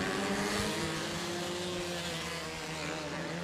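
Small 125/250 race cars lap the Thunder Hill Speedway track during a heat, a continuous loud buzzing engine drone with layered tones from several cars, steady throughout.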